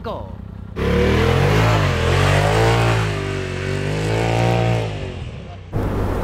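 A Polaris RZR engine revs hard and steadily at close range during off-road short-course racing, its pitch rising and falling for several seconds before cutting off abruptly.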